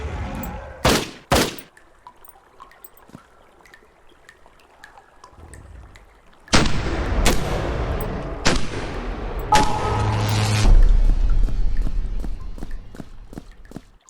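Gunfire in the video game Pop Some Eyes comes as sharp, loud shots, first a couple of isolated cracks, then a run of heavy blasts followed by a rapid train of fainter repeated shots.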